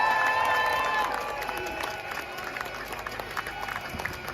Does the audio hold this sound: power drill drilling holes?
no